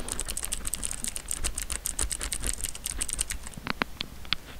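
Rapid, steady clicking of computer keyboard keys being hammered over and over while playing a Roblox game. The clicks are crisp and close, slowing to a few isolated taps at the end.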